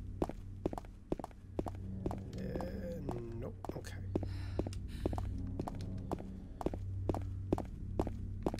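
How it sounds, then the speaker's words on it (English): Footsteps of a character in the video game Silent Hill 2, a steady series of soft thuds over a low droning hum, with faint whispery ambience throughout. "I hear Maria's footsteps"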